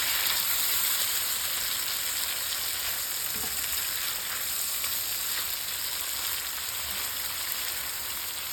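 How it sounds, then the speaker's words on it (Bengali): Fried hilsa fish cooks in a watery spice sauce in a pan, giving a dense, even bubbling sizzle like steady rain that stays close and constant without speech. "ভাজা মাছটা দিয়ে দিলাম।"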